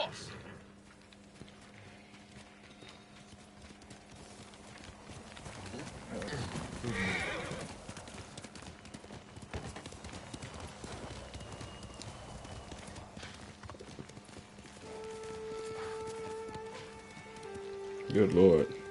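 Hoofbeats clip-clop steadily from a horse in the video game Ghost of Tsushima, with a loud whinny bursting in near the end, all under intermittent talking and soft rain-like game ambience.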